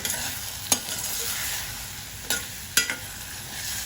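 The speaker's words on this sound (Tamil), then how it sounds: "இப்போ இதை நல்லா மிக்ஸ் பண்ணி எடுத்துக்கலாங்க." Tomatoes and chicken masala stirred in a pan, a soft continuous sizzle broken by three quick scraping strokes of a spoon, close and fairly quiet.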